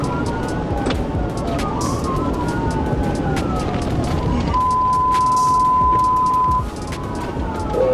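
A police car siren wails with rising and falling tones and then holds one steady tone during a dashcam pursuit on Highway 167 in Dallas County. It is loud and continuous over heavy road and engine roar.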